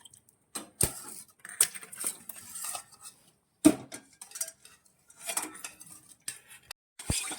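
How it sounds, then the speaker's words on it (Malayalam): A utensil scraping and clinking in a pan while stirring a thickening pudding mixture of Tang, cornflour and sugar, heard as close, irregular bursts of scraping and taps with brief pauses between strokes. "ഈ ടാങ്കിന്റെയും കോൺഫ്ലോറും പഞ്ചസാരയും കൂടി നന്നായിട്ട് നമ്മൾ ഇളക്കിക്കൊണ്ടിരിക്കണം"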